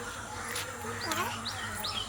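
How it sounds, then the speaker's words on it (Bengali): Outdoors, a bird gives a few short, faint chirps and tweets spaced about half a second apart, set against a constant low background hum and noise. "পাখি ডাকছে"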